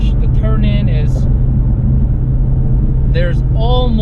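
Ford Mustang GT350 with new modifications and tires on a track day, its engine a steady loud drone throughout, heard from inside the car, with someone talking over it.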